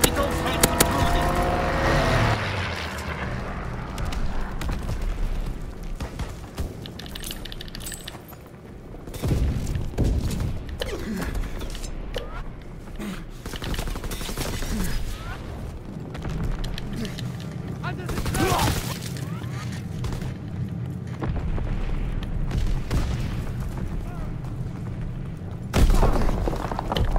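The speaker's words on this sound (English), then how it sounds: "Fighter pilot inbound, strafing the target." Fighter aircraft strafing run in a video game: bursts of rapid gunfire and heavy explosive thuds over a continuous roar of engine and battle noise, with louder blasts near the middle and end.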